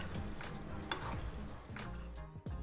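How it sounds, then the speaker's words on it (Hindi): Chicken masala being dry-fried in a pan makes a steady close sizzle, broken by a few scraping stirs and clinks, with no voices. "तो इसको बस अच्छे से भूनना है।"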